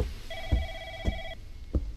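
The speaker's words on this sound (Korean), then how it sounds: "전화 왔어." A telephone rings inside a quiet house in a horror video game, giving three short, bright electronic trills spaced evenly about half a second apart. Each trill is close and clear over faint low background noise, and no one talks.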